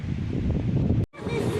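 Strong wind blows at a seaside spot on the French coast, a loud, close rumbling buffet over the microphone that cuts out briefly before returning.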